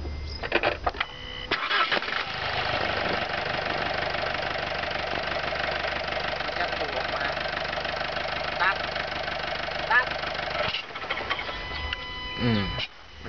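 A car engine fitted with a blocked-off EGR valve cranks and catches, then settles into a steady, loud idle that runs almost the whole clip before cutting off near the end, with a person talking briefly over it.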